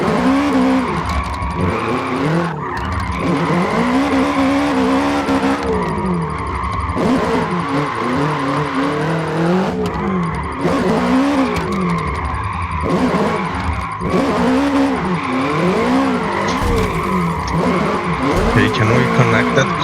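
A GR86 drifting on a touge road in a racing game, its engine revving and falling in repeated swells while tires squeal through each slide, loud and continuous.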